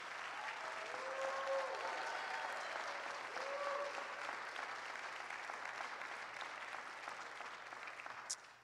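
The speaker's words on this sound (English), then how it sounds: "Can we give them one more hand clap of praise?" Church congregation applauding high school graduates at a Sunday service, a soft, even wash of many hands clapping that sounds distant and low in level, continuing steadily before tapering off.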